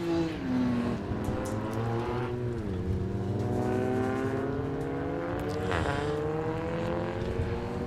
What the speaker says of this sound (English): I can already see cars heading out of the pit lane